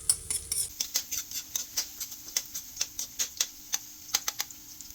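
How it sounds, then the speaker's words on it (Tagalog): Garlic frying and being stirred in a pan makes a steady sizzle under repeated clinks and scrapes of a utensil against the pan, close and regular. "Now, kumukulo na, it's frying the garlic."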